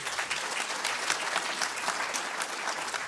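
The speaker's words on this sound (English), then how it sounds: "I think you can give them a round of applause." A hall audience claps steadily at an NSSCO/AS exam results announcement, a dense, even patter of many hands filling the room for a few seconds.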